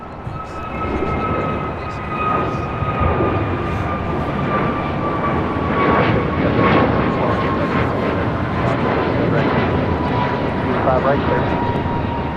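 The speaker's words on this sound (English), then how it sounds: "This is American Airlines Flight 1105 taking off to Charlotte on an A321 Neo." An American Airlines Airbus A321neo airliner takes off at LAX, a loud steady jet roar with a high engine whine that holds throughout, with a voice talking over it.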